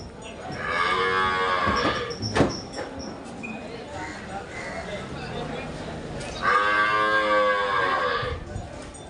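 Holstein Friesian cows at a cattle market in Chakan low loudly twice, long drawn-out moos near at hand, with a sharp knock and faint voices between them.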